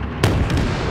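Gunfire in a World War II armor-and-aircraft video game throws shrapnel: a single loud close blast at the start of the clip, followed by a rumbling, crackling wash of noise that keeps going to the end.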